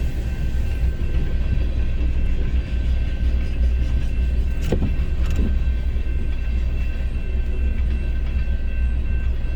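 A train passes a railroad crossing with a loud, continuous rumble and low roar close by, and a couple of brief higher metallic squeals rise partway through.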